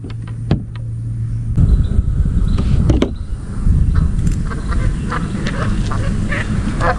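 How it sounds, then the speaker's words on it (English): Geese honk and squawk in scattered bursts over a rumbling background while bass fishing, several calls overlapping at moderate distance. "There go the geese."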